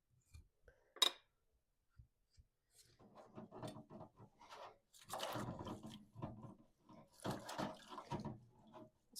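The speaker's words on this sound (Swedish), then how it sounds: "sen så ska vi bara diska av dem lite med varmt vatten och diskmedel" Glass jars that held pressure-canned meatballs get rinsed with warm water and dish soap at a sink: close, intermittent splashing and running water, with light clinks of glass and short gaps of near silence.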